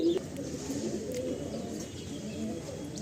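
Pigeons in a loft of Chennai, Andhra, Malwai and Madrasi high-flying breeds coo in soft, low, repeated murmurs, several birds overlapping close by with a few faint chirps.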